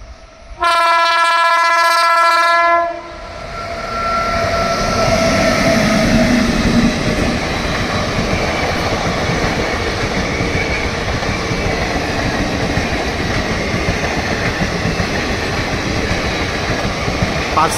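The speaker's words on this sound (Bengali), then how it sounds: "বেশিক্ষণ ওয়েট করতে হলো না, একটা ট্রেনের আওয়াজ পাওয়া যাচ্ছে।" An Indian Railways train arriving and passing nearby opens with a loud, steady horn blast lasting about two seconds. A continuous heavy rumble and rattle of wagons rolling past follows and stays loud to the end.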